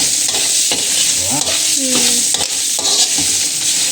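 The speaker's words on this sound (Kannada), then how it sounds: "ಇದನ್ನು ಚೆನ್ನಾಗಿ ಎಣ್ಣೆನಲ್ಲಿ ಫ್ರೈ ಮಾಡ್ಕೋಬೇಕಾ?" Fresh curry leaves frying in hot oil for pineapple sambar, a loud close crackle and sizzle with scraping stirring strokes throughout.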